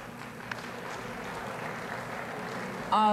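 Audience applause at a 1999 high school academic awards ceremony sounds as a steady, even wash of clapping from a large hall, continuing unbroken at moderate loudness with no clear talk.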